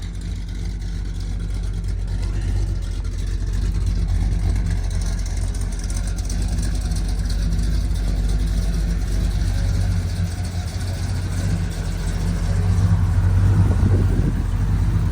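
A 1977 Chevy C10 two-wheel-drive long bed pickup engine idles steadily while warming up, a continuous low rumble close by with a slight swell near the end.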